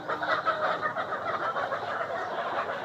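Many laying hens clucking and murmuring together in a dense, continuous chorus inside a poultry shed, with no single bird standing out.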